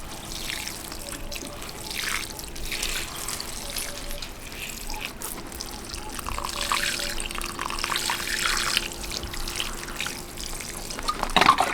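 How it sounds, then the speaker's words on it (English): Water pours steadily from a can or tap over freshly planted herbs in a garden, a continuous close trickle and splash with no one talking. "I'm just watering the herbs."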